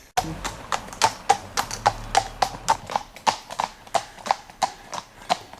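A horse's hooves clip-clop steadily along a country road in the New Forest, a loud, close and evenly spaced trotting rhythm with no voices over it.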